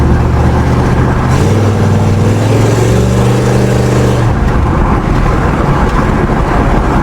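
A first-generation Chevrolet S10 pickup with a swapped-in V8 drives along with a loud, continuous engine drone. The tone rises and shifts in steps midway as it accelerates, over constant road rumble.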